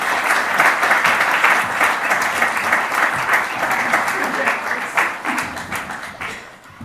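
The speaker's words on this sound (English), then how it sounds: "Please join me in robust applause." Loud, sustained applause from a large audience, steady dense clapping that tapers slightly toward the end.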